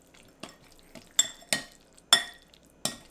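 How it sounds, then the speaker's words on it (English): Tuna salad being mixed with mayonnaise in a bowl: a handful of sharp spoon-against-bowl clinks and scrapes, irregular and close, with quiet gaps between strokes. "So mix it together now"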